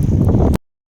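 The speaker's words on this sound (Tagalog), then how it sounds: "lakas ng hangin" Strong wind roars and buffets the microphone in a sudden spring snowstorm in Canada, a loud continuous rush lasting about half a second before cutting off abruptly to silence.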